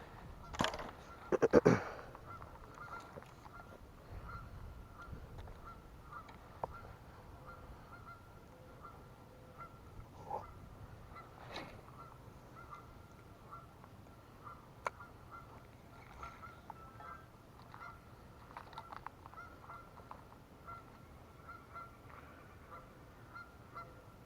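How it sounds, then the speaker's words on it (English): Birds honk and call in the distance outdoors, with one louder burst of honking near the start and scattered quieter calls after. "There's a lot of bird noise going on behind me."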